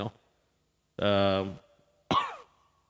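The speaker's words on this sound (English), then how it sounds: "Excuse the cough, don't worry." Two separate coughs, a harsh throaty one followed by a shorter sharp one, close and loud with silence between them.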